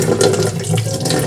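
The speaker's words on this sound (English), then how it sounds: "And then I'm gonna add just regular old tap water to fill it up" Ordinary tap water runs steadily into a container, a loud, continuous gush with no talking over it.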